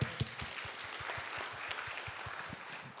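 Audience applause at an interfaith panel discussion, steady many-handed clapping filling the room, with a few louder individual claps standing out near the start before it holds evenly.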